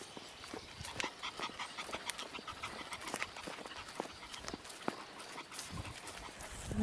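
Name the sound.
dog panting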